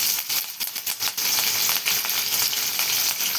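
Cumin seeds and green chillies sizzle steadily in hot oil, a bright, continuous crackle with rapid popping spurts close by, heard alone without any talk.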